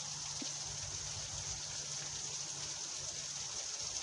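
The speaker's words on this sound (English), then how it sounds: "there will be a lot more rain showers like that probably for the whole night and for the next few days" Heavy rain showers pour down in a dense, continuous hiss that stays steady and fairly loud throughout, with no voices.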